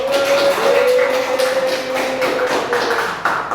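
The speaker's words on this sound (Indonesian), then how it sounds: "Oke, beri aplaus dulu." A classroom audience claps together, a dense patter of many hands beating in quick irregular bursts, with a faint steady tone running beneath.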